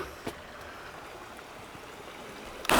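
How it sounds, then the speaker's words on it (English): Small waterfalls trickling along the stone walls of the Watkins Glen State Park gorge in New York, heard as a soft, continuous watery wash with a brief knock near the start and a louder rustle at the very end. "You see a lot of little baby waterfalls like that all along here."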